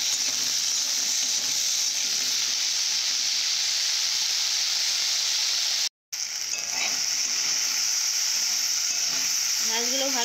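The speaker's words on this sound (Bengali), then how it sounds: "ঢেঁড়সগুলো ভালো করে ভেজে নিয়েছি।" Okra sizzles steadily in hot oil with turmeric in a home kitchen, a constant close hiss running throughout, briefly cut by a short gap, with faint stirring noises near the end.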